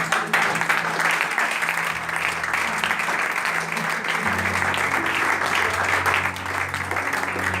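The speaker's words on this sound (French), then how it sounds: "Acclamons le Seigneur." A church congregation at a Pentecostal-style service bursts into sustained applause and clapping, steady and loud throughout, with voices and low musical tones underneath.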